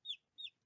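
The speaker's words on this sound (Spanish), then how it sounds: "están los pollitos aquí empezando a salir" Newly hatching chicks from incubated hen eggs give two quick high-pitched peeps and the start of a third, close and faint against silence.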